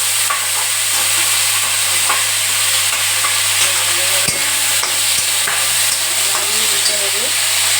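A spoon stirs boiled figs, potato and chickpeas through sizzling spices in a hot pan, a steady loud fry and hiss close by with scraping strokes running through it.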